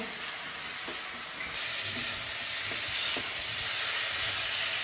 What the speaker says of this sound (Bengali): চিকেন থেকে নিজস্ব যা জল বেরোবে সেটা দিয়ে চিকেনটা সেদ্ধ হয়ে যাবে